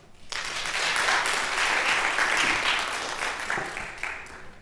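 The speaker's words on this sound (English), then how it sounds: "Please welcome him with a round of applause." Audience applause welcoming a lecture speaker: clapping starts abruptly from silence, swells into a full round from a seated crowd, then gradually thins out toward the end.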